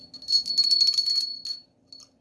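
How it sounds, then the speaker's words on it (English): A small decorative bell figurine, a thrift-store find, jingles in a brief bright shimmer of tinkling rings that fade out, then a faint last tinkle. "she is actually a bell"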